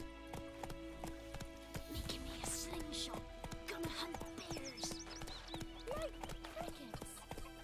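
Rhythmic hoofbeats of a horse in The Witcher 3 video game clip-clop at a trot alongside occasional whinnies and voices, over a faint steady background hum.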